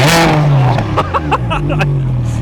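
A Ferrari 360 at a supercar runway event gives a loud, close, high-pitched engine blare that falls in pitch as it pulls away, with brief sharp crackles and pops following.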